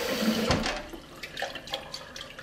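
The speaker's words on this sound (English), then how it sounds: "all I'm going to do is just let that water out, and I'm going to go ahead and give them a quick rinse" Rinse water draining from a batch of sprouting chickpeas, a close, splashy pour with a few short gurgling bursts and scattered drips, no voices.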